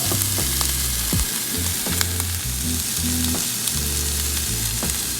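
Precooked sausage tumbling into a hot pan and frying: a loud, continuous sizzle with occasional clatters and pops as pieces are moved, close up and with no talking.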